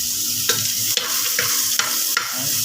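Whole onions frying in a pan, stirred with a few sharp scraping clicks over a steady close sizzle, with no talk.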